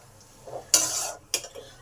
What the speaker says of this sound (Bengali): এবার বড়ি ভাজাটাকে ভালো করে শাকের সাথে মিশিয়ে দিই।